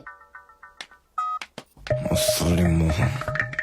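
A telephone keypad dialed in a comedy scene from the Telugu film Sarrainodu: a quick run of short, evenly spaced tones, then a few longer tones, before a louder, denser burst of noise takes over.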